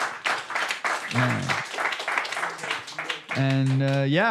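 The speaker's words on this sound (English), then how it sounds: "another round of applause here for Jaden" Audience applause for a speaker at a cryptography summit, a moderate burst of clapping mixed with voices and laughter, ending in a sustained tonal sound.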